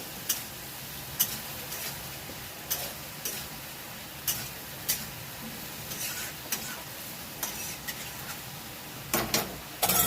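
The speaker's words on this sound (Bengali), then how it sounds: "এবার দিয়ে দেব মশলাতে পটল আলু" Pointed gourd and potatoes dropped into a spice mix in a hot pan, a steady low sizzle broken by repeated sharp clicks and scrapes of stirring, close and without talk.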